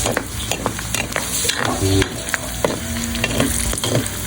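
Small portion of meat for Bicol Express frying in a pan, a dense continuous sizzle with scraping stirs and clinks from a utensil, close and loud.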